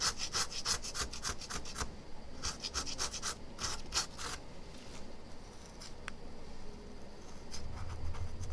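A plastic knife scrapes and rubs along a screen during LCD panel separation, giving a run of short, close scratching strokes in quick bursts that thin out toward the end.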